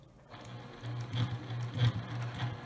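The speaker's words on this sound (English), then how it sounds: "let's take it to the sewing machine and we're going to stitch those areas" Sewing machine stitching through a clear vinyl drawstring bag, a steady mechanical whirr with rhythmic needle pulses that speed up and pause briefly, close and moderately loud with no talking.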